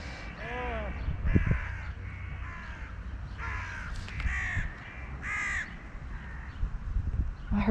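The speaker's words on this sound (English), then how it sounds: "We have our crows." Several crows caw repeatedly outdoors, their harsh calls coming in short bursts of two or three, fairly close over a low background rumble.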